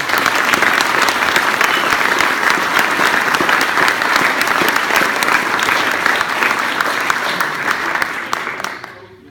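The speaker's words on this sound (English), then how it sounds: "And so, a round of applause before you." Sustained, dense applause from an audience at a ceremony presenting a bronze statue of Br. George, steady and fairly loud throughout before tapering off at the very end.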